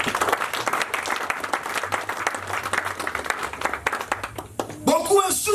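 A church congregation claps and applauds steadily and densely. The cheering gives way near the end to a raised voice speaking over the crowd.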